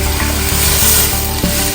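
A pan of Jamaican coconut chicken with ketchup sizzles hard after a splash of water, a dense close frying hiss with faint stirring taps underneath and no talking.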